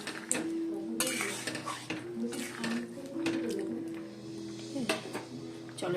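Chilli chicken cooks in a pan while a utensil stirs and clanks against the metal, making scraping and rattling bursts with a faint sizzle underneath. A person talks over the cooking.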